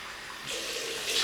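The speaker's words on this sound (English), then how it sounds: "Rinse the old face." Water splashing from a running tap as a face is rinsed after a shave with a stainless steel double-edge razor, a short close burst that gets louder toward the end, with no talking.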